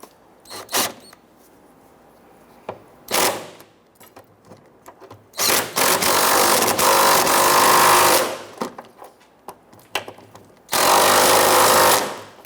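Bolts on the fuel tank straps of a 2011-2021 Jeep Grand Cherokee being run down with a power tool: short bursts, then two longer loud whirring runs of a few seconds each, close by with no talk.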